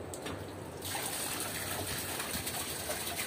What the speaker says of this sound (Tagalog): Yung submersible water pump natin ay 12 volts, 60 watts.